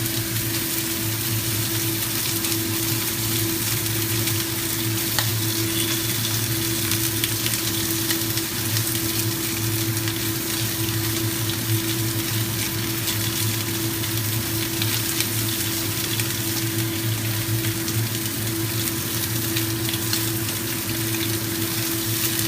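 Fatty pork belly frying in a pan and stirred, a long steady sizzle with a constant low hum underneath, moderately loud and even, no voices.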